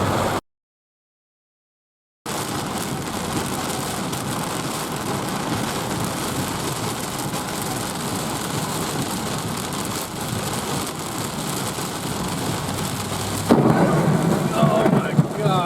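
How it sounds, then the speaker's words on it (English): Heavy rain with rolling thunder at Hilton Head during a spring storm, a steady loud downpour hissing without pause after a brief silent gap, growing slightly louder near the end. "It's very rainy."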